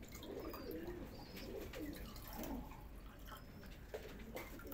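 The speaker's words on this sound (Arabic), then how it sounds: "من الحمام ده" Pigeons cooing in a loft housing about a hundred birds, several low soft coos repeating over a steady background hiss and rustle, with occasional faint higher chirps.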